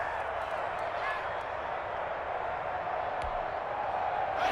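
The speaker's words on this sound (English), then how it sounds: "this crowd urging on their defense. They're up and making noise" Crowd noise from a Madden football video game, fans up and roaring to urge on their defense on third down in the fourth quarter, a steady wash of sound that holds evenly throughout.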